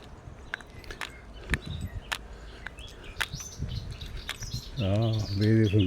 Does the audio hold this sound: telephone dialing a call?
no